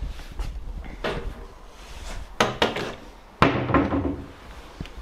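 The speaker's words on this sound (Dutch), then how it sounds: "Dus hier is een deur." A door in an abandoned café gives a few sharp knocks and thuds, the loudest partway through, over quiet indoor room noise.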